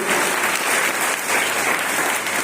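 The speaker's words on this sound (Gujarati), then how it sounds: "આપણે તાળીથી વધાવી દઈશું." An audience claps for a medal winner at an athletics meet, with dense, loud applause that holds steady for the whole stretch.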